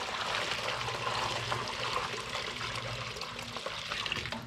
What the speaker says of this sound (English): next step, water, good clean water.